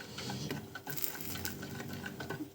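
Wholewheat flour and water are stirred into a batter, a quick stretch of soft clinking and scraping against a bowl, close and quiet, with no talking.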